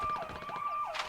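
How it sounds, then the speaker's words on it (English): Car alarm in the video game Vigor, a wailing, rising-and-falling electronic siren cycling rapidly, steady and moderately loud with no other sounds. "Then the car alarm goes off."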